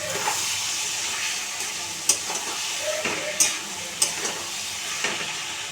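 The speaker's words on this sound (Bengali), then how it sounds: "এবার ঢাকা খুলে আমি আরেকবার নাড়িয়ে নেব।" A fish-head and greens curry being stirred in an uncovered pan, with a soft continuous sizzle broken by a few crisp spatula knocks and scrapes at close range.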